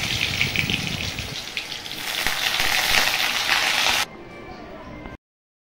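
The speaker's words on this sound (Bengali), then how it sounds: "তাই জন্য আবার আলুটা ভেজে নিয়ে নিচ্ছি" Potatoes sizzle in hot oil in a pan for a chicken curry, a steady loud crackling hiss that drops abruptly to a quieter simmer near the end.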